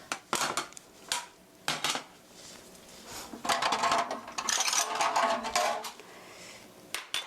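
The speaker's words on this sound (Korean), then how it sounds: "달걀 1개를 다른 접시에 톡톡해서 깨서 확인하시고요" An egg is tapped a few times against a separate plate, then cracked open, for a churros batter: sharp, close clinks spaced apart, then a longer scraping crackle, followed by more light taps.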